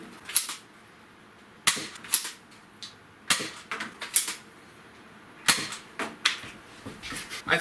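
A knockoff Nerf Firestrike foam blaster fires repeatedly, giving sharp snapping clicks in irregular bursts with brief pauses between shots and no talk over them.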